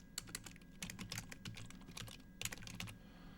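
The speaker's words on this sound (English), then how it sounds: "So hold the Windows key and R on the keyboard." Rapid, uneven typing on a computer keyboard at a desk during a phishing-lab walkthrough, dense bursts of clicky keystrokes with brief pauses, fairly close and alone with no voices.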